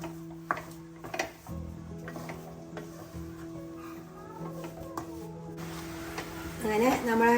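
Rava kesari with cashews and raisins being stirred in a pan, with soft scraping and light sizzling sounds, intermittent clinks, and a person talking throughout.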